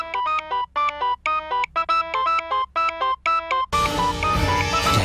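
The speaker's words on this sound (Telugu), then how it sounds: "జయాబాయ్ ఏంటి మాణిక్యకి ఫోన్ చేస్తున్నాడు?" A mobile phone ringtone sounds for an incoming call, a bright repeating electronic melody in short bursts with brief gaps, close and clear, before other sound cuts in near the end.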